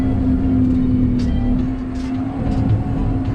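A farm tractor straining under an oversized load of muck, its engine a steady heavy drone with a low hum, loud and close, with occasional rattles.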